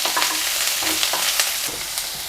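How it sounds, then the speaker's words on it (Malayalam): Crushed garlic, ginger and chopped green chili sauté with onion in a pan, giving a constant close sizzle with light stirring scrapes throughout and no speech. "പിന്നെ കുറച്ച് വെളുത്തുള്ളിയും ഇഞ്ചിയും കൂടെ ഒന്ന് ചതച്ചെടുത്തത് ഒരു പച്ചമുളക് ചെറുതാക്കിയിട്ട് അരിഞ്ഞത് എല്ലാം കൂടി ചേർത്തിട്ട് ഒന്നങ്ങ് വഴറ്റി കൊടുക്കാം"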